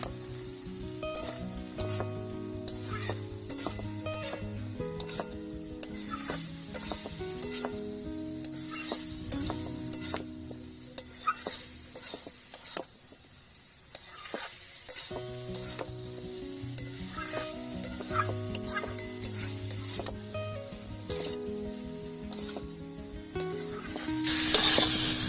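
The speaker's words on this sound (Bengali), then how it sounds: "মশলার সাথে ভালো করে মিশিয়ে নেব।" Fried cauliflower, potato and soybean chunks are stirred into spices in a pan, giving a steady sizzle with repeated scraping and clinking strokes over about 25 seconds. The sound stays close and fairly loud, and no voices are heard.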